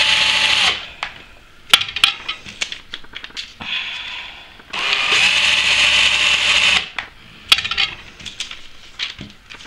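Cordless drill used to wind paper rolls, with two long whirring runs separated by clicks, knocks and handling clatter, close and fairly loud, with no talk.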